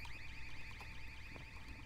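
A constant electronic beeping in Half-Life 2 chirps rapidly and evenly, loud and unbroken, with only faint game noises beneath it.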